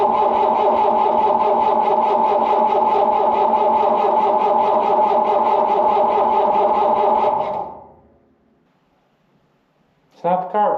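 A road grader engine with a hard-starting fault cranks steadily and loudly for several seconds after brake cleaner is sprayed into its carburetor, then stops, followed by silence and a brief second burst of cranking.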